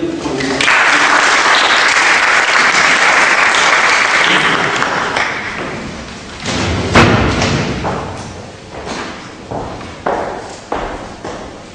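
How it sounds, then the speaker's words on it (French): Loud applause fills a hall at a 2013 awards evening and holds steady for about six seconds. It then thins into scattered claps, thumps and a bell-like ping. "On peut vraiment les applaudir."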